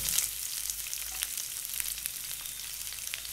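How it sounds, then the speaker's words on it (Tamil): Finely chopped onions frying in a pan over medium flame while making Chettinad pepper chicken: a steady, close sizzle with crackling pops and occasional stirring, no voices. "இப்போ சின்னதாக நறுக்கின வெங்காயத்தை சேர்த்துக்கோங்க."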